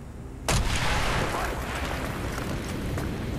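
A Call of Duty: Black Ops explosion blasting a hole in a wall: one sudden loud boom, then a long rumbling, crackling tail with debris, under game voices.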